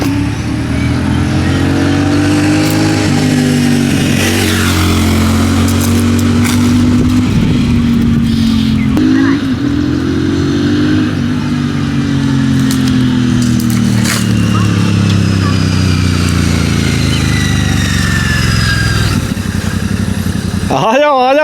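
A Royal Enfield Shotgun 650 motorcycle makes loud, close passes, its twin-cylinder engine rising and falling in pitch as it revs, approaches and moves away, with voices talking in the background.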